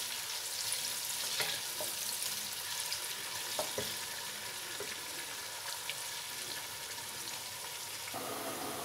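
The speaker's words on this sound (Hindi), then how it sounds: "प्याज को हम धीमी आंच पे ब्राउन करेंगे।" Sliced onions browning slowly in oil over low heat for mutton bhuna, a continuous soft sizzle with occasional stirring clinks and scrapes, close and steady, with no voices.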